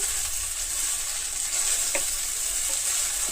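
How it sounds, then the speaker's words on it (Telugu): Two dried red chilies fry in hot oil as tempering for an okra stir-fry, a loud, steady sizzle close by with a couple of brief utensil taps. "2 ఎండుమిర్చి తాలింపు కోసం వేసాను."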